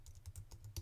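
Fingers tap a computer keyboard while a search term is typed, producing about eight faint, quick, close keystrokes in an uneven rhythm.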